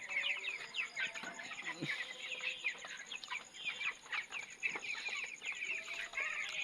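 Many chickens in a poultry house cluck and chirp steadily, overlapping calls at moderate distance with a few louder bursts and faint background noise.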